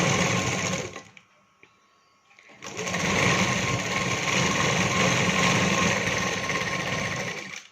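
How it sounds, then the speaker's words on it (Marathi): A sewing machine stitches a lined katori blouse strip with a quarter-inch seam. It runs in a short burst, stops for about a second, then hums steadily and close for the rest of the clip. "पाव इंचाची शिलाई टीप घ्यायची मारून."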